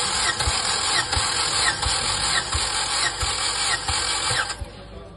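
A 2011 Chevrolet Cruze 1.6 engine cranks over during a compression test with a steady rhythmic chug, about seven even compression beats under a high whine, then the cranking stops.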